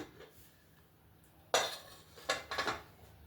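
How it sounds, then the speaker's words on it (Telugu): Metal lid of a pressure cooker lifted off after the steam has gone, giving a few close, sharp metallic clanks and scrapes against the pot in a quiet kitchen, with no talking. "కుక్కర్ మూత తీసి చూద్దాం."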